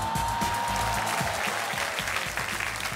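A studio audience at a Chinese TV dating show applauds continuously, a dense, loud wash of clapping with music underneath throughout.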